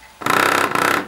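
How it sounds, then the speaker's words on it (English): A device vibrates on a table top, giving a steady rattling buzz for nearly a second with one brief break, close by and fairly loud, with no talk. "So if I put it on the table here,"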